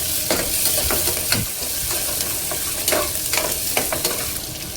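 Curry leaves, onion and garlic sauté in a hot pan for Kolhapuri misal, giving a steady close sizzle with repeated scraping stirs of a spoon.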